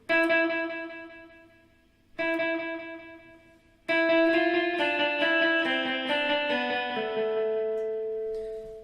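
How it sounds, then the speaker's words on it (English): Sustained guitar notes ring out alone through a Boss DD-5 digital delay pedal, each followed by distinct repeating echoes that trail off, with a clear gap between note and repeat. "we should now be starting to hear more of a gap between my note and the echo"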